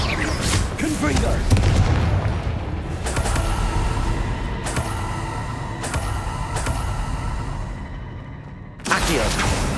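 A Confringo spell in the video game Hogwarts Legacy sets off booming blasts amid other spell explosions, loud crackling bursts and rumbling impacts in quick succession with some voice sounds mixed in.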